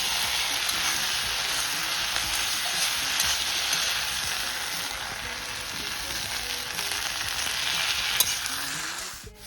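Fish pieces for fish manchurian frying in hot oil, a steady close hiss and crackle of sizzling that runs the whole time with no talk.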